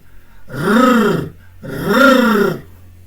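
A human voice imitates a tiger's growl, producing two long, loud, rolling roars of about a second each separated by a brief pause.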